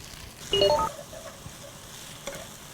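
Squid goes back into a hot pan with chunks of spring onion and chili for a curry-powder fettuccine stir-fry. A loud sizzling burst lasts about half a second, then a fainter, steady crackle stays underneath.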